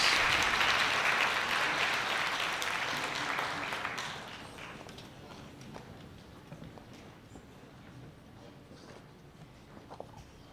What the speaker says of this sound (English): Let's applaud them as they're going to their seats, guys.